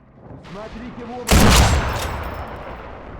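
A loud blast of gunfire in Sniper Elite V2 erupts midway with a sharp onset and a long rumbling decay, following quieter ambient sound and a brief voice at the start.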